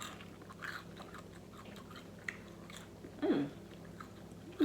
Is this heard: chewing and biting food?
yes